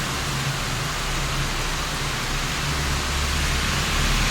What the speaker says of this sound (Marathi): पाऊस बघा किती जोरात सुरू आहे.